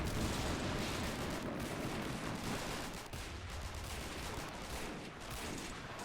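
Battle in the war game Men of War Assault, tanks blowing up during a hill fort siege, gives a dense, continuous roar of distant explosions and rattling gunfire, steady and faint, with no voices.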